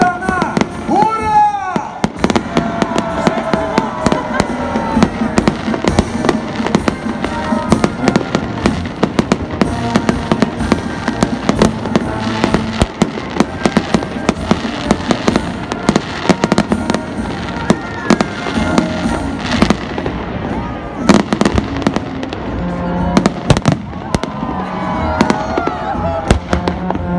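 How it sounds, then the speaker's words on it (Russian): Festive Victory Day fireworks salute in Vladivostok, a dense, continuous barrage of loud booming and crackling explosions that overlap for nearly half a minute, echoing outdoors. "Продолжает раздаваться взрывные раскаты праздничных салютов."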